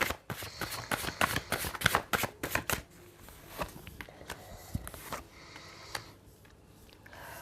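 Tarot cards are shuffled in quick, close riffling bursts for about three seconds, followed by softer, sparse flicks and taps as cards are drawn.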